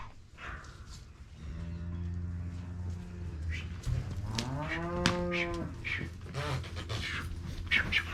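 A steer bellows in a long, deep moo that rises and bends in pitch, with a second lowing call following, heard nearby during cattle separation over a constant background rumble.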